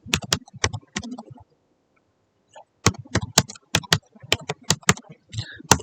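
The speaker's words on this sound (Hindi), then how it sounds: "फादर्स नाम आप टाइप करेंगे" Keys clatter on a computer keyboard while typing text into Notepad, close and crisp, in two quick bursts of rapid clicks separated by a short quiet gap.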